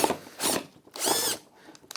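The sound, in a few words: drilling a hole into MDF board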